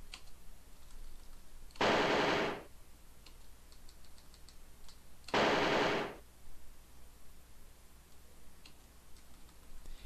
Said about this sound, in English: He's firing a Calibri, which is less accurate than what we're firing